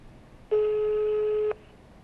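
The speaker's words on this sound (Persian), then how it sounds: "داره تلفن زنگ میزنه اما ایشون جواب نمیده" A single long electronic telephone tone rings out for about a second, a steady pure buzz that starts and stops abruptly against a quiet background, with nobody answering.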